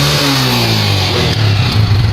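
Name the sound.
Peugeot motorbike engine running and revving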